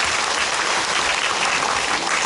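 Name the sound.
audience clapping at a press meet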